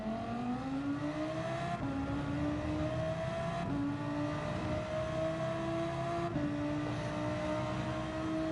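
A GT4-class race car engine in Gran Turismo 7 revs steadily upward through each gear, with rising pitch broken by three distinct shift drops, loud and continuous with no talk.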